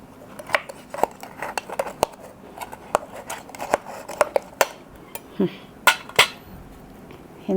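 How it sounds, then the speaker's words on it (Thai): A knife cuts through tough, chewy cooked sea snail meat in a home kitchen, giving scattered sharp clicks and scraping taps against a plate or board, irregular and close, with occasional soft voices. "อู้เหนียวมาก ใส่มีด"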